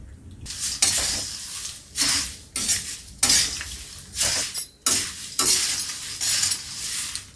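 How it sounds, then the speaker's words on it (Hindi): Salted puffed rice poured into a dry pan with roasted fox nuts and stirred, bursts of rustling, scraping rattle repeating in waves, loud and close with no talk. "ऐसे में डाल दे रहे हैं मुरमुरे, मूढ़ी को।"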